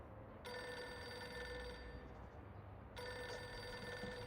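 An office telephone rings in the Reverse: 1999 video game, two long electronic trilling rings separated by a short pause, steady and clear over a low room hum.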